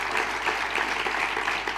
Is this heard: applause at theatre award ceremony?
yes